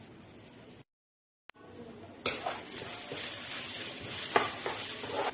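Spices sizzling in a pan for chicken curry, a brief silent gap, then loud crackling and hissing with stirring scrapes, close and continuous.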